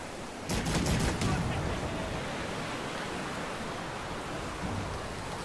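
Ship cannons firing in the Man O' War: Corsair naval video game, a loud cluster of booming shots followed by a long roar of sea and wind noise.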